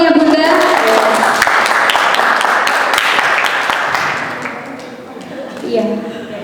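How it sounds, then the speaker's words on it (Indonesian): An audience at a seminar applauds, a dense wash of clapping that swells after a spoken introduction, then fades out as a voice resumes over it. "Tepuk tangan dulu ya Bunda."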